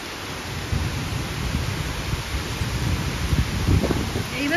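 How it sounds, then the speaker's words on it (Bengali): Heavy rain pours steadily through a kalboishakhi storm in Kolkata, a dense close hiss of drops with a low rumble beneath, growing a little stronger near the end. "ভালোই জোরে বৃষ্টি শুরু হয়ে গেছে।"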